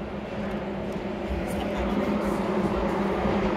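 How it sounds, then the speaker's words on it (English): A train passes as a steady, low rumble that holds at an even level throughout, with no voices over it. "That's another train, isn't it?"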